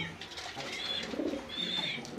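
Pigeons coo softly in the background, low murmuring calls mixed with faint higher chirps over a steady ambient hum.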